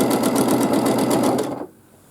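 A sewing machine running fast during free motion quilting, a loud, close, rapid mechanical stitching rattle that holds steady for about a second and a half and then stops abruptly.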